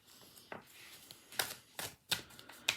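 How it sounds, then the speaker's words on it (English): Tarot cards being shuffled, a series of crisp riffling snaps and soft slides coming in irregular bursts, close and fairly quiet with no talking. "Give these little babies a shuffle."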